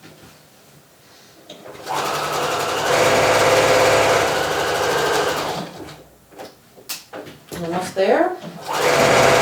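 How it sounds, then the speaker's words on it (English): A sewing machine runs loud and close as it stitches the bottom edge of a fabric nursing cover, a sustained whirring burst followed by shorter stop-start runs, with a brief spoken remark between. "And sew the bottom edge."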